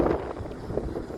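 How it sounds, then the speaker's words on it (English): Steady wind buffeting a microphone outdoors at a high, exposed spot overlooking the Anglia Square demolition site, a low rumbling gust noise that stays fairly constant throughout. "It's very windy."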